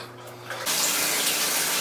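Water gushes in steadily as a 1200-gallon Amazon-style aquarium gets its final fill, starting with a quieter trickle and swelling into a loud, continuous rush.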